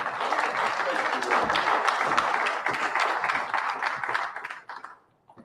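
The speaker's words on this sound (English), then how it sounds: "We'll receive Jonell Allen Bay with a round of applause" An audience applauding at a City of Flint announcement of a violence-prevention program, a full, steady burst of clapping from a room of people that fades out at the end.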